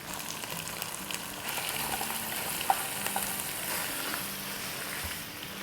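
Mutton mince sizzles and fries in a pan with onions, ginger and garlic, a steady close crackling hiss with occasional small pops and stirring, no talk.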